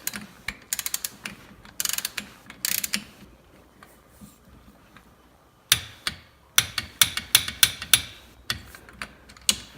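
A ratchet wrench tightens the front drain plug on a Polaris Sportsman 200HR ATV, giving close, crisp clicking bursts in short groups separated by brief pauses, with no talk over it.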